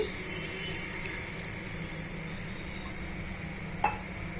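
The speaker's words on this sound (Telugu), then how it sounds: "ఇప్పుడు ఇందులోనే తగినంత వాటర్ని కూడా యాడ్ చేసుకోవాలి" Water is poured into an egg curry gravy in a pan, giving a steady soft splashing flow for a few seconds with a brief clink near the end.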